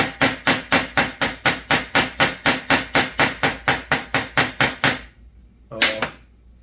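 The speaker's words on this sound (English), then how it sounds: "It does require a little bit of skill as far as aiming the hammer" A hammer strikes metal in a fast, even rhythm of about seventeen sharp blows while fitting a new tip to a chainsaw bar, then a pause and one final ringing tap, close and loud.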